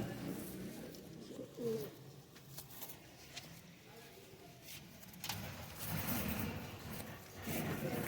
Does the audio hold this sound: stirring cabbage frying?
no